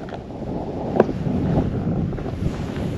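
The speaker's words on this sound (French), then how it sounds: "il y a un petit peu de vent ce matin au réveil" Wind gusts steadily across the microphone in the morning at a ski station parking lot in the Pyrenees, a loud continuous low rumble with a faint knock partway through.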